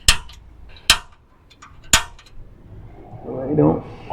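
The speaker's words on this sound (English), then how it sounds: "Just gonna give it a punch." Three sharp metallic strikes on a metal punch a second apart, marking a Club Car DS golf cart for a trailer hitch, ringing briefly, followed by a softer scraping rustle nearby.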